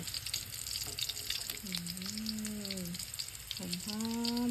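Fermented pork ribs deep-frying in hot oil, a steady close sizzle and crackle running throughout while someone talks over it.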